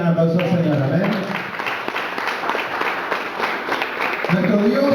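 A church congregation claps and cheers in applause for several seconds during a Spanish-language worship service, with a voice speaking over the crowd at the start and end.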